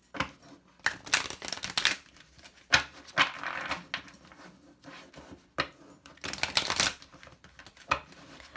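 Oracle cards being shuffled by hand, with repeated close papery riffles and slaps in irregular bursts, fairly quiet, with no voices.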